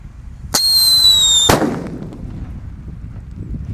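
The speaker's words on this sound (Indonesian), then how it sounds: "di sini ada mercon Black Buster yang sudah dibuntel dengan kertas" A Black Buster firecracker wrapped in cash-register roll paper bursts with a single loud, sharp bang, followed by a fading rumble and low ambient noise, preceded by a brief high whistling tone.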